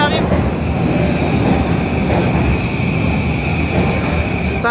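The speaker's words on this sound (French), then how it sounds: "Ah le métro il arrive." A subway train arrives at a Tokyo metro station with a dense, steady rumble of wheels on rails and a faint high whine, loud and continuous, with people talking underneath.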